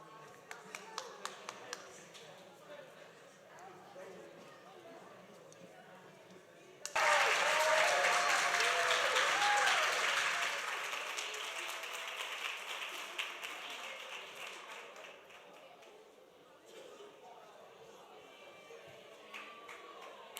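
Audience clapping for young participants at a lunch plenary, bursting in loudly partway through as a sustained round of applause, then tapering off under background chatter and scattered taps.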